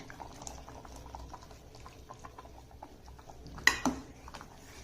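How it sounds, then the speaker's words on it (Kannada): Sambar with avarekalu lentils bubbling in a pot, a soft, steady simmering patter close by, broken near the end by a couple of sharp clinks of a utensil against the pot. "ಇವಾಗ ಕುದೀತಾ ಇದೆ"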